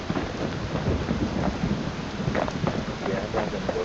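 Rain and thunder in the video game Bastion, a dense steady downpour with low rumbling running throughout; a voice talks faintly over it.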